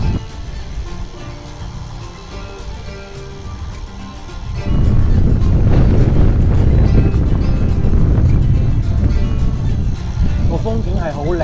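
Strong wind buffets the microphone while cycling down a 15 km mountain descent on the Aso volcano in Kumamoto, a lighter rumble at first, then a loud, steady roaring gust from about the midpoint to the end.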